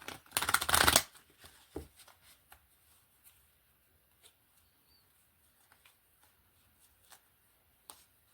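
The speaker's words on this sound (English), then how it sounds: "Let me shuffle one more time." A deck of tarot cards is riffle-shuffled in a short loud burst near the start, followed by a single snap and then scattered soft taps and faint card handling in an otherwise quiet room.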